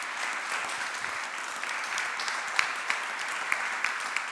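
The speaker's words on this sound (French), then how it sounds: "Je vous demande de les applaudir" An audience at a museum talk applauds the organizers with steady, moderately loud clapping, a few sharper individual claps standing out, and no voices.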